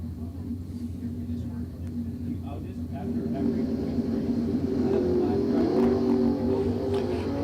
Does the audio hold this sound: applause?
no